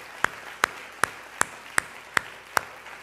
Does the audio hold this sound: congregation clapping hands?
yes